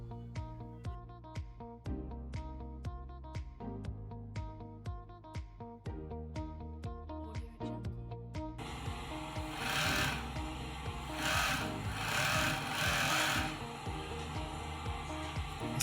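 An overlock sewing machine stitches test fabric, first in rapid rhythmic mechanical ticking bursts, then a denser, louder continuous whir with rising and falling surges, close and with no talking.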